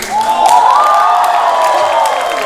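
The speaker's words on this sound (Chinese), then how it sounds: "那掌声欢呼声再大点" An audience at the 2014 Chinese new-talent singing contest final in Christchurch, New Zealand, breaks into loud cheering and applause, a sustained crowd roar with shouted voices swelling over the clapping, then holding steady.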